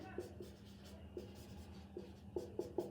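Pen strokes during a chemistry lesson on carbohydrate tests: soft, faint scratchy taps and short scribbles at an irregular pace, sitting just above a low steady background hum.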